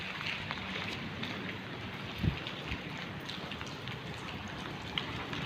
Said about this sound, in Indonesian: Sebenarnya hujannya kayaknya nggak terlalu lama